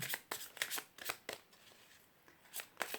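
Tarot cards are shuffled for a reading, a quick, faint run of crisp riffling bursts close by, with no talking.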